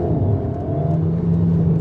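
Alpine A110 GT facelift sports car pulling hard out of a corner, a steady engine drone with rising harmonic tones over a low rumble, continuous and fairly close, no talk.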